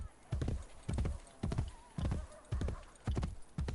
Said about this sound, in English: we are on horseback, making our way across the Roman countryside